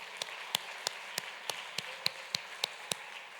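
Applause breaks out in a church congregation as individual sharp claps ring out at a steady rhythm, roughly three per second, fairly faint and distant against a quiet room.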